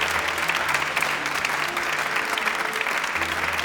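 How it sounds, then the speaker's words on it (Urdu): A studio audience at a Mahfil television show gives steady, loud applause that fills the whole stretch without pause. "چلیے زوردار تالیاں ہو جائیں"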